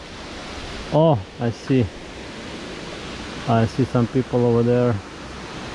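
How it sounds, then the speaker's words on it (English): A large jungle waterfall in Costa Rica gives off a steady, broad rushing roar that fills the whole clip, with people talking briefly in the foreground over it. "Oh my god, so huge waterfall."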